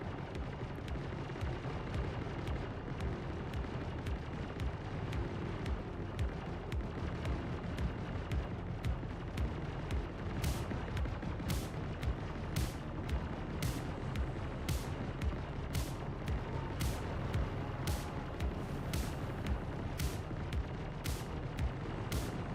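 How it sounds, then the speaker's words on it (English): Turret gunfire in Star Citizen, a steady dense rumble of rapid booming shots that continues throughout without pause, moderately loud with no talking. "the turrets are going nuts"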